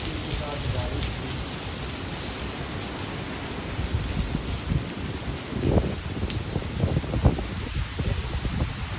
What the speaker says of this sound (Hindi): बहुत तेज हवा है इस इसी के साथ इसी तकलीफ के साथ बारिश थी।